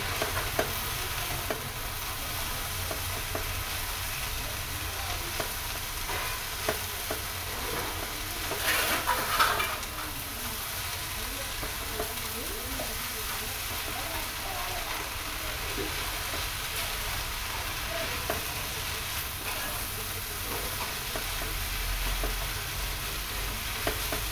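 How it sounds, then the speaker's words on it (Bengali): Leafy greens frying in a pan, giving a continuous even sizzle close by, with faint stirring and scraping throughout. "চলুন ভালো করে ভাজি"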